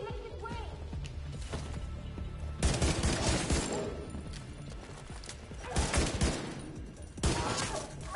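Daniel Defense M4V7 rifle fire in a combat video game, rapid bursts of shots crackling over a continuous background of game ambience, with several denser volleys spread across the clip.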